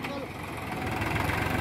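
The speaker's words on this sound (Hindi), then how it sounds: "अब तेरा भाई बहुत पुराना ट्रैक्टर है भाई, बहुत पुराना।" An old Mahindra B 275 tractor engine runs with a steady, rough low rumble throughout, partly masked by people talking close by.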